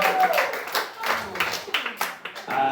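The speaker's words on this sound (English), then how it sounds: "Clap it up one more time for Geoff." Brief bursts of audience clapping at a stand-up comedy show at Asylum NYC, mixed with tonal sound and voices, uneven and short-lived.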